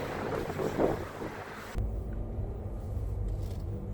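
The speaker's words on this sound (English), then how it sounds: "the wind is really picking up now" Strong wind gusting outdoors as a nor'easter blizzard approaches, a rough roar against the microphone that shifts partway through into a deeper, heavier rumble, steady and close with no voices.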